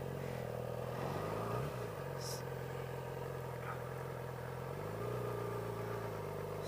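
Motorcycle engine running in first gear while rolling slowly on pavement, a steady low hum with small pitch rises as it eases along, close and fairly quiet.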